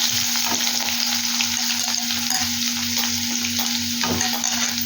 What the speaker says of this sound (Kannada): ಈಗ ಈರುಳ್ಳಿ ಹಾಕ್ಕೊತೀನಿ.